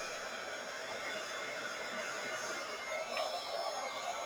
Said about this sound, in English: going to take our heat tool and we're going to heat up the pieces that we put the embossing powder on